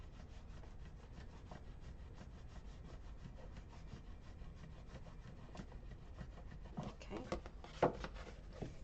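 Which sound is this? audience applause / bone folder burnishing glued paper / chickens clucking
bone folder burnishing glued paper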